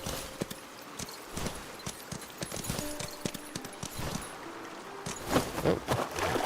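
Horse hooves clip-clopping at a steady trot in the video game Where Winds Meet, a continuous rhythmic patter of hoofbeats close up with no talking.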